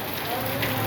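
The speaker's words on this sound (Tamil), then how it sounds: "நீங்களே ரெயினை பாருங்கள்." Heavy rain pours down in Madurai, a dense, steady hiss of drops striking surfaces close by with no break across the short moment.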